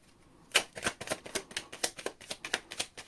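Tarot deck being shuffled by hand, a quick run of about a dozen crisp riffling card snaps in close succession, close and clear with no talking.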